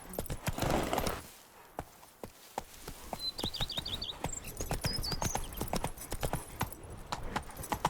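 Roach, the horse in The Witcher 3 game, galloping with a rapid steady beat of hooves, the gallop briefly dropping off then resuming, with faint birdsong chirping in the background.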